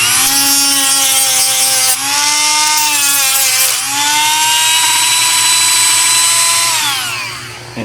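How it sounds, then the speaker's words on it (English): A Dremel with a knotted wire wheel deburrs a bearing retainer from a 1948 Chevrolet rear axle, giving a loud, close, high whine that sags briefly under load twice, then spins down near the end. "I'm going to take my knotted Dremel and just make sure there's no burr there."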